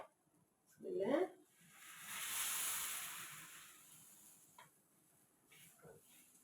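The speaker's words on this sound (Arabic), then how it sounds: "هنزل بقى معايا بميه مغليه." Boiling water poured into a cooking pan of potatoes and chicken wings gives a broad hiss and sizzle that swells and slowly fades over a few seconds, preceded by a brief voice and followed by faint stirring.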